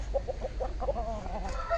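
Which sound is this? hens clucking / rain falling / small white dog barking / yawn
hens clucking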